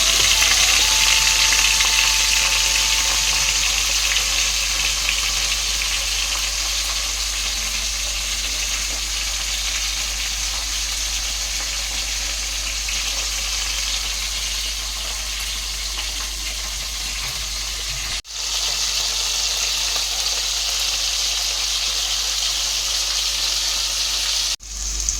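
Silver carp and rohu fish cooking in a home kitchen pan, a loud, steady close-up sizzle and hiss that runs unbroken, dipping only briefly twice.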